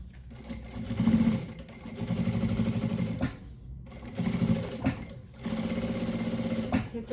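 A domestic sewing machine runs in bursts of steady mechanical whirring while stitching a fabric organizer, pausing briefly between runs, with a short backstitch reversal near the start; close and fairly loud.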